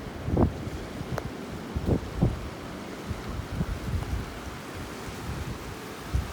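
Ocean waves washing up on a shelling beach, a steady broad wash of surf with a few soft surges, buffeted by wind noise on the microphone and with no talking.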